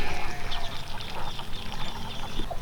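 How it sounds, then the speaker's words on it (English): Ducks in a rice paddy give faint quacks and calls over a steady wash of trickling, pouring water, with scattered bird chirps in the background. "Ducks are out doing duck things in the rice paddy."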